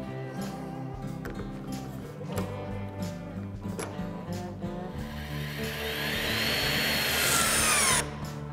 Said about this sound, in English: What I'm using here is a HYTORC Lithium Series 2 with a HYTORC washer driver.